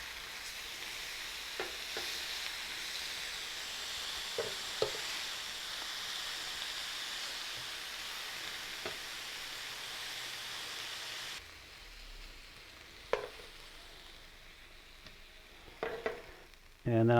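A ribeye steak seasoned with salt and pepper sizzles steadily on a Cuisinart Griddler GR-4N after being flipped, a continuous hiss that drops quieter partway through, with a few soft clicks and bumps.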